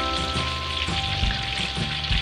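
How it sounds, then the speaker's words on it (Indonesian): Tilapia fries in hot oil in a pan, giving a steady, moderately loud sizzle with soft crackles and a few low bumps of handling throughout, and no voices. "Ini proses menggoreng ikannya sudah selesai ya guys"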